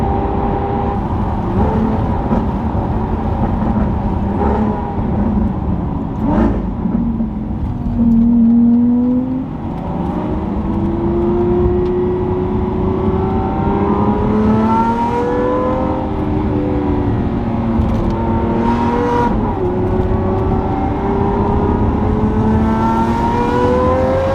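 A Lamborghini Gintani SVJ accelerating hard on an open road, heard close from inside or alongside: a loud, sustained engine roar that rises and falls through gear changes, with no talking.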